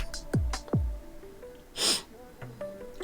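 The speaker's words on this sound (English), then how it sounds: "I'm sorry if I'm like sniffling a lot, y'all" Two sharp nasal sniffs from someone with serious allergies, close to the mic, followed by a breathy exhale and faint background noise, with no speech.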